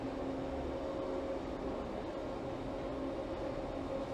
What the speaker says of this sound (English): that was the Line 1 subway train I just got off.